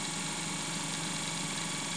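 A rotary spark gap prototype spins at about 1500 RPM on 20 volts, giving a steady, even motor whir with a faint mechanical hum that holds constant throughout.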